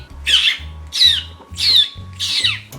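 A bird squawks four times in a steady rhythm, harsh and close, with a low hum underneath, as if in a room.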